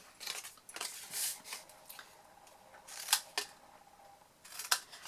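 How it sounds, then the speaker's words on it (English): Scissors cut small tabs and wedges out of folded card: several crisp, sharp snips come at irregular intervals, close and fairly quiet, with soft handling noise between them. "We're just going to fold, burnish and cut the little tabs, cut some wedges out of them."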